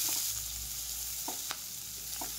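Chopped onion hits hot oil in a wok after whole spices have been tempered, sizzling with a steady loud fry and a few soft clinks and stirs.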